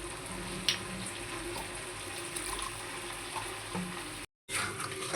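Ground spice paste of ginger, onion and tomato hits a pan of frying potatoes and kohlrabi, giving a soft, continuous sizzle with faint stirring clinks, quiet and uninterrupted by talk.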